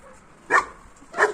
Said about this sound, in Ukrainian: І там собаки загавкали, там і там.